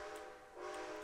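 A steam locomotive whistle in Red Dead Redemption 2 sounds as a steady multi-tone blast with a brief dip in the middle, heard on its own with no talk.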